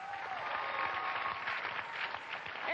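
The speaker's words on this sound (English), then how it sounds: "let's have a round of applause for Mark" A studio audience applauds a game show contestant, a steady wash of many hands clapping at moderate volume with no talk over it.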